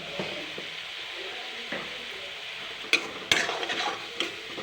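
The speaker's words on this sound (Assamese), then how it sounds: "মই এতিয়া এনেকৈ লৰাই দিছোঁ।" A soybean and tomato curry is stirred in a sizzling pan, a continuous frying hiss broken by a few sharp scrapes and clinks of the spoon against the pan toward the end.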